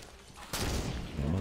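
Gunfire from the video game Halo 5 erupts as a sudden dense burst of shots midway through and continues to the end, loud and close.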